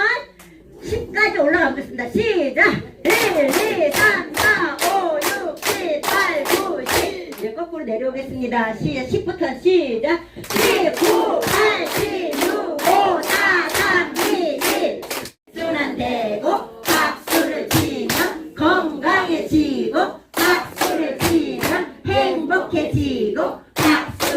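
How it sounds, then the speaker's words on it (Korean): Audience at a laughter-therapy session claps hands in sharp rhythmic bursts separated by pauses, with someone speaking between and over the clapping rounds. "박수를 조금 쳐야 될까요? 많이 쳐야 될까요?"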